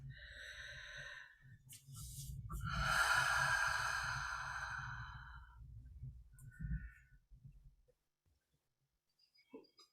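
A single long, deep breath during a guided meditation: a soft airy inhale swells over several seconds, then eases into a quieter exhale and a brief wheezy snort, close and alone in a hushed room.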